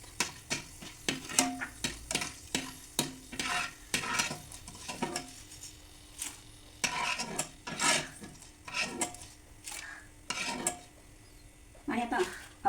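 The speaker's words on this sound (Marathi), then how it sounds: "आता हे काढून त्यानंतर आपण ही हिरवी वेलची घालून घेऊ" Whole green cardamom pods being dry-roasted and stirred in a pan for a Maharashtrian onion-garlic masala, giving repeated scraping and rattling strokes in an irregular rhythm, close and fairly loud with no voice.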